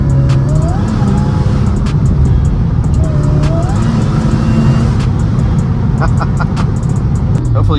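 A Mercedes C32 AMG with a supercharger accelerates, its steady engine roar carrying a rising whine, heard close and loud with road and traffic noise around it.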